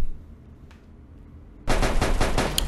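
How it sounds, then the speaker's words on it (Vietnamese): Automatic gunfire in the battle-royale game Garena Free Fire erupts after a quiet stretch, a loud, rapid, continuous burst of shots up close. "Nó lợi dụng lúc mình lag là bắn mình này"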